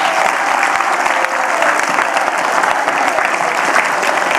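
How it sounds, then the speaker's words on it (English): Audience at an academic talk on barnacles and bacteria gives a big round of applause, dense continuous clapping filling the room at close, loud, steady level. "please give Joanne a big round of applause"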